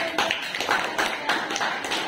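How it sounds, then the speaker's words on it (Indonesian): Students in a classroom clap hands together in a short burst of brisk, scattered claps, moderately near and fairly loud, with no talk over it. "Tepuk tangan dulu."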